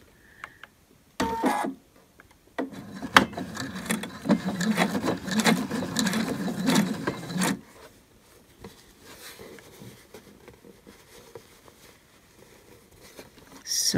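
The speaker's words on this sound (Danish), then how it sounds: "Og så er jeg klar til at sy med styret hernede ved maskerne" Sewing machine stitching the lining of a knitted French market bag, a quiet tap, then a sustained run of fast rhythmic stitching lasting about five seconds before stopping into near silence.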